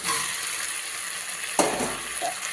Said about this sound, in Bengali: আলুর সাথে মশলাটাকে আবার ভালো করে কষে নেবো